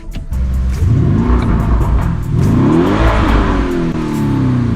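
A 2020 Lamborghini Urus 4.0 twin-turbo V8 engine revs up repeatedly, rising and falling in pitch, loud and close, with no talking.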